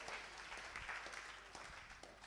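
A church congregation claps together, a faint, steady wash of hand claps with no break.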